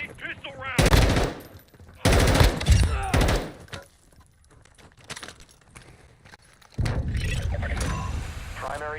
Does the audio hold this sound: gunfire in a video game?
yes